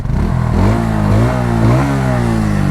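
A 2023 Bajaj Pulsar P150 motorcycle idles and revs through its exhaust silencer, close and loud, the engine note rising and falling in a couple of short throttle blips.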